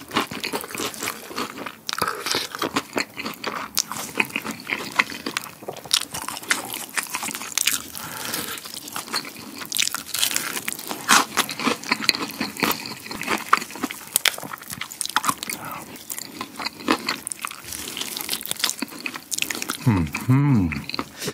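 Crunchy butter-coated fried chicken bitten and chewed up close: repeated sharp crackling crunches and wet chewing in irregular bursts throughout, with a voice speaking briefly near the end.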